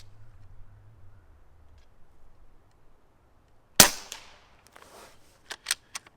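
Umarex Gauntlet .25 PCP air rifle firing hunting pellets: a single sharp, close crack after quiet, followed by a few faint clicks and taps.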